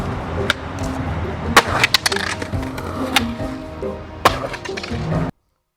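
Sharp wooden clacks and a heavy thud as a skateboard lands hard after a big drop in a parking lot, set against rumbling outdoor noise with brief voices in the background.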